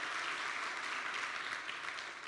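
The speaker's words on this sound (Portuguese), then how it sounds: "Vamos aplaudir a vida dele." A church congregation applauds during a service, a dense, steady wash of many hands clapping loudly and continuously throughout with no break.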